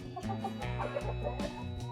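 Backyard chickens clucking close by, a busy run of overlapping calls and short cackles with no talk.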